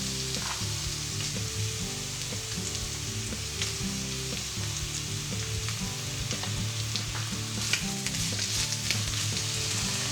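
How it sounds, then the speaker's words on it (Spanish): Chopped spring onion fries in a hot pan for a soba noodle dish with vegetables and cashews, making a loud, continuous close sizzle with crackling pops and occasional stirring knocks and no talking. "Cuando ya empieza a desprender olor, y antes de que se empiece a dorar, incorporamos la cebolleta cortada."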